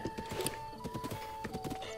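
White horse hooves clip-clopping in Zelda: Breath of the Wild, a quick run of light, evenly paced game-audio hoof thuds heard up close over a faint steady background tone.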